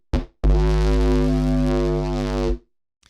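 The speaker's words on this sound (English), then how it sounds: "We're gonna add distortion." A deep synth bass patch built in the Vital synthesizer with chorus and distortion added plays one sustained, buzzy distorted note for about two seconds, loud and alone after a short blip.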